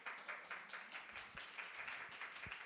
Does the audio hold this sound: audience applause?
yes